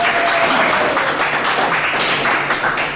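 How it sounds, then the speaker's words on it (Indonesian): A class audience claps together at the end of a teaching session, a steady burst of applause lasting a few seconds with no voices on top. "Tepuk tangan untuk kita semua."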